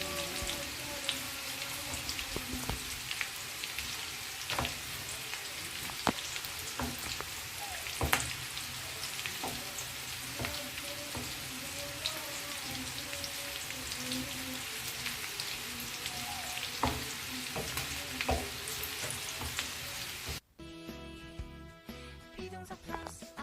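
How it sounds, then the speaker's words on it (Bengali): Cauliflower florets frying in a pan, turned and tossed late at night: a steady, dense crackling sizzle with scattered sharper pops runs alone throughout, then cuts off abruptly near the end. "তো আমি একটু ফুলকপিগুলো উল্টে পাল্টে ভেজে নিচ্ছি, যেন চারপাশেই সমানভাবে ভাজা হয় আর কি"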